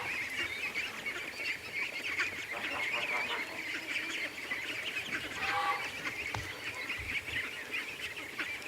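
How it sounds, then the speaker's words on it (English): Ducks and geese call across an outdoor pond, a steady chorus of honking and quacking at moderate distance with overlapping voices and background hiss, no speech. "Oh, it looks like an adult duck at the front."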